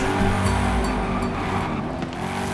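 A car's engine roars steadily inside a tunnel in the racing video game Forza Horizon 5, a loud, continuous drone that echoes off the walls, with no one talking.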